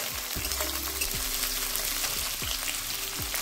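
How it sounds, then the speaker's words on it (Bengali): Two large chopped onions fry in a pan for a mutton curry, giving a steady, close sizzle broken by rhythmic scraping strokes of a spoon about once a second. "পেঁয়াজটাকে একটু ভেজে নেব।"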